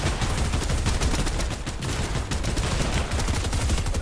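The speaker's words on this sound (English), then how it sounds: "I'm pumping with the pistol right now." Pump shotgun and pistol firing in a Fortnite competitive match, a dense, continuous barrage of loud, close shots in rapid succession with no pauses.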